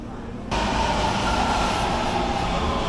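A Taipei metro train arrives at a station, its sound jumping in abruptly and continuing as a loud, steady rushing rumble with a faint tonal whine.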